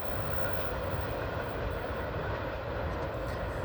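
A BNSF freight train with double-stack and piggyback cars passing at La Plata, Missouri, on the Marceline Subdivision, a loud continuous rumble and roar heard close by with no break.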